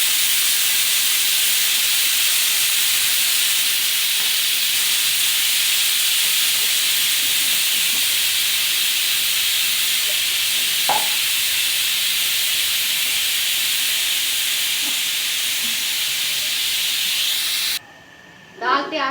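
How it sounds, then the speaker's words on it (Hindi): Steam hisses loudly and steadily from a pressure cooker of dal after its weight is lifted, a continuous close rush that cuts off near the end with a short clatter. "अब दाल हो गई है प्रेशर कुकर में। अब मैं इसका वेट उठा लूँगी।"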